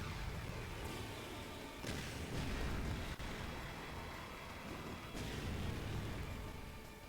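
A Magma Bomb attack in the video game Chrono Cross: a faint, continuous explosive rumble runs through the whole stretch, with heavier booming bursts rising out of it a few times.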